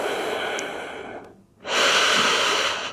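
Deep forced breaths in a yoga child's pose: a long broadband breath that fades into a short pause, then a strong, loud, airy exhale or inhale right up close.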